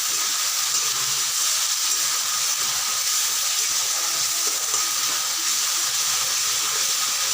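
Spices and potatoes sautéing in a pan after a splash of water, a steady close hiss and sizzle of steam that stays even throughout with no talk.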